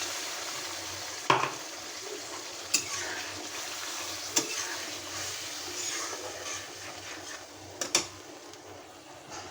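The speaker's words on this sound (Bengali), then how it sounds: "এই মশলাটা আমি ভালো করে কষিয়ে নেব।" Spice paste stir-fried in a pan, a low steady sizzle close by with several sharp scrapes and knocks of a spoon against the pan.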